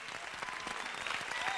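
A crowd applause sound effect in a Minecraft video, a dense, steady clapping that carries at moderate level throughout and is mixed with some background voice.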